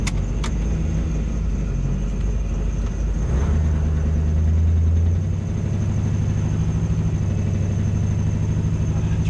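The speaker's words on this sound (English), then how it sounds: "That intake, that sheet metal intake makes a very echoey noise." A car engine with a sheet metal intake idles steadily, producing a hollow, echoey drone that deepens and swells midway before settling back into an even, continuous rumble, with no voices.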